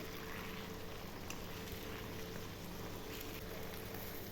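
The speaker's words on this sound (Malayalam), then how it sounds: "ഇനി ഒരു മീഡിയം ഫ്ലെയിമിൽ വെച്ച് അതൊന്ന് ഫ്രൈ ആക്കി എടുക്കുക" Sardines frying in a pan over a medium flame, a steady close sizzle and crackle of hot oil that holds evenly throughout with no pauses.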